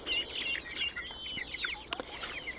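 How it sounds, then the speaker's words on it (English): Six-week-old young chickens on a small farmstead cluck and chirp in a busy, overlapping chatter, faint and close, with no talking. "these chickens, well, the younger ones"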